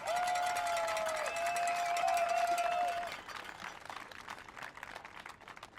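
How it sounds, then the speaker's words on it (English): A crowd claps and cheers loudly for about three seconds, with a bright whistle-like tone riding over the noise, then the applause thins to a scattered, fading patter. "Please give them a round of applause."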